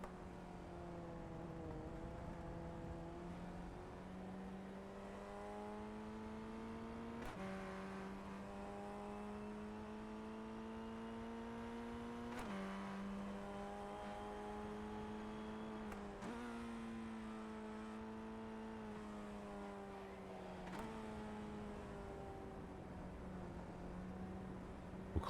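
Onboard engine note of an FF1600 race car at Rudskogen Motorsenter in a racing video game, droning steadily with rising pitch through each gear and sharp shift breaks roughly every four to five seconds, no voices.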